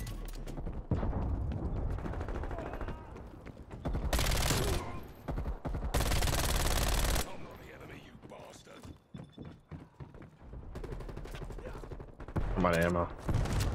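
Bursts of shotgun and automatic weapon fire in Call of Duty Cold War, loud dense volleys in two blasts mid-clip amid game effects, with someone talking excitedly between and over the shots.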